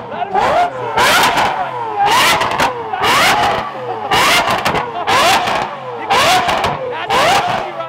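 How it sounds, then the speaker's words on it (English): A loud Lamborghini Aventador V12 engine revs hard over and over, about eight sharp bursts in steady rhythm, each rising and dropping back, close by. "You give this guy an Aventador, he just revs it all day."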